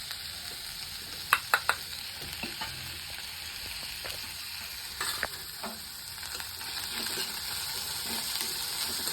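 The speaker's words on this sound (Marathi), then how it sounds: "कांदा टाकून मग कढीपाला टाकून घेतला ह्याच्यासोबतच हिरवी मिरची टाकते म्हणजे ही पण तळून निघेल चांगली तेलामध्ये" Onion, curry leaves and green chillies fry in hot oil, a steady close sizzle with a quick burst of sharp spoon clicks near the start and softer scraping stirs later, with no talk.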